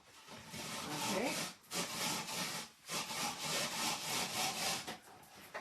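Carrots scraped back and forth on a plastic Tupperware grater, a steady rasping rhythm of repeated strokes with brief pauses, close and fairly loud.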